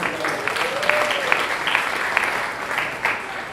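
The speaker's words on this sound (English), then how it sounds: "I want everybody to clap that up" Audience applause following a panel discussion on Ferguson, a steady wash of clapping hands filling the room at moderate volume, with a few sharper claps standing out and a faint voice underneath.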